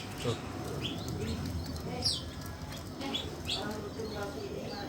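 Soft cooing of a zebra dove and a spotted dove mixed with brief high bird chirps, fairly faint, over a background of low murmuring voices.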